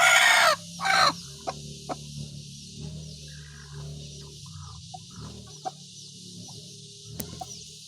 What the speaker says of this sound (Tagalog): pumasok na po yung ating inahin na isa